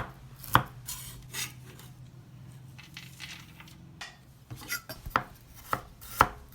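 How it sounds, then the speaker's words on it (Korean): Knife finely chops roasted walnuts on a cutting board for carrot cake. Irregular close taps and scraping knocks sound with some sharper clinks, quiet and without speech. "먼저 볶은 호두를 잘게 다져주세요."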